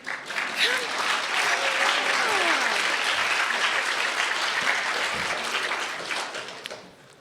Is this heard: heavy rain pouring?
no